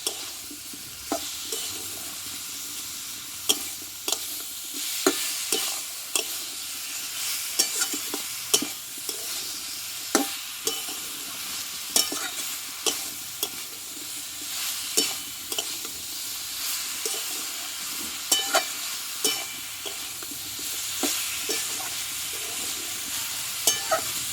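Banana stem (thor) sautéing with spice masala in a pan for a vegetarian Bengali dish: a continuous hiss of frying broken by frequent sharp scrapes and taps of a spatula stirring, close and without talk.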